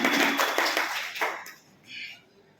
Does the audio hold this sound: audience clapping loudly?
yes